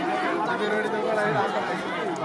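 Many voices murmur and chatter together across a packed bullock cart race ground in Sinnar, a continuous dense crowd hubbub at steady loudness throughout.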